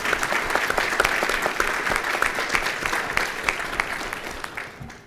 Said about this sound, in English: please join me in another big round of applause for Congressman Tom Cole and his leadership.